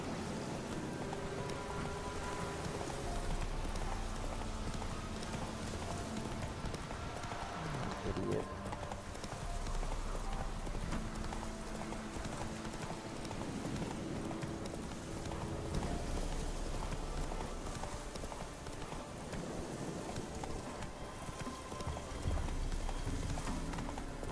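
Horse hooves gallop in The Witcher 3: Wild Hunt in a steady clip-clop rhythm, mixed with the patter of rain and a dense background of game ambience throughout.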